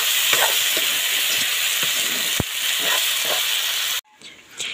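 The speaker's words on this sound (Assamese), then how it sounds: "আকৌ অকণমান সময়ৰ কাৰণে ভাজিলোঁ।" Pork fries with bottle gourd in a pan, a loud close sizzle broken by stirring scrapes and one sharp knock, then it cuts off abruptly near the end, leaving a quieter room sound.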